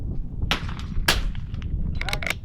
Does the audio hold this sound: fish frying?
no